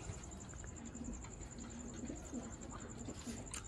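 Soft, repeated cooing of pigeons close by, steady and rhythmic over a constant high-pitched electrical whine.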